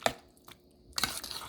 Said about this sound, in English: I'm just going to mix it up